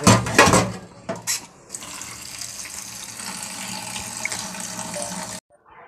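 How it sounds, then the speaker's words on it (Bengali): Cold water pours steadily from a tap over boiled jackfruit and potatoes in a sink, preceded by a few clattering knocks of a pot, then stops abruptly. "এবারে জলটা ফেলে দেবো দিয়ে ঠান্ডা জল"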